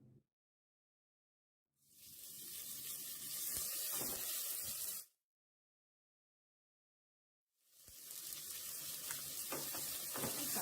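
A pan of olive oil sizzles loudly in two separate bursts of frying, each lasting a few seconds, with near silence before and between them.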